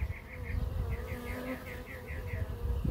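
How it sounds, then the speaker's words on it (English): Honey bees buzzing steadily around an open hive during an inspection, a dense close drone with individual bees whining past, no speech. "See, nurse bees, that's very good."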